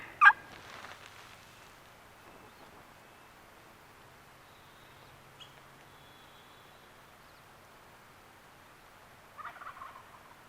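Wild turkey gobbling in Idaho woods: a sharp gobble near the start, then a fainter, more distant burst near the end, with quiet forest between.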